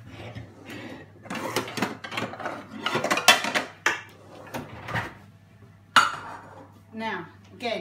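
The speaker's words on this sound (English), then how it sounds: "And I'm going to get frying pan out." Metal cookware clatters and clanks in a kitchen, a string of irregular knocks and scrapes as a frying pan is taken out close by, with a voice at times.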